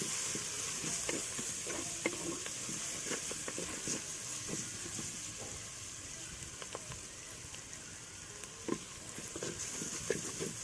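Onions frying with turmeric and salt for a fish kulambu, stirred steadily in a hot pan: a continuous close sizzle with repeated scraping and clinking of the spoon, with no talk.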